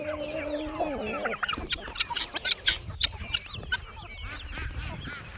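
Chickens cluck and squawk at close range in a busy flock, a rooster-like call rising early, with dense overlapping bursts and low rustling throughout.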